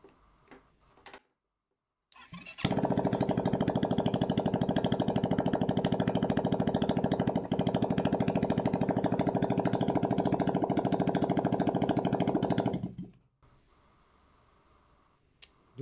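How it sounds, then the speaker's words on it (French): A small Spazio scooter engine, just restarted, idles steadily for about ten seconds with a rapid ticking rattle, then cuts off into quiet. "Donc voilà le moteur, redémarrer, fonctionne, fait un petit peu de bruit"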